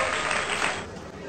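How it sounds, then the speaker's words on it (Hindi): Dense, steady clapping from a crowd, fairly loud and continuous, fading slightly toward the end. "तालियां"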